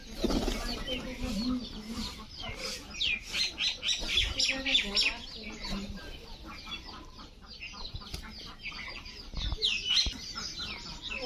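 Domestic pigeons cooing and fluttering nearby at village feeding time in a busy outdoor spot, with scattered squawks and wingbeats and a voice speaking briefly at times.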